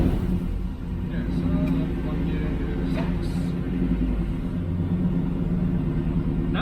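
A stationary car with its transmission running gives a steady low rumble and hum that holds for the whole stretch, with faint voices in the background.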